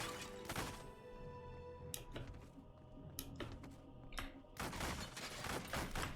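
Gunfire in the action RPG Wolcen: Lords of Mayhem, sharp bursts and rapid shots scattered over a busy, dense game soundscape with thuds and impacts, fairly close and continuous.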